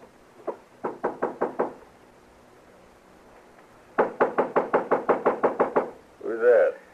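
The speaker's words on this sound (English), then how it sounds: "All right, knock on the door." Knocking on a hotel room door in a Western radio drama: a single rap, then a quick run of five knocks, a pause, and a longer burst of about ten crisp raps, followed by a brief voice.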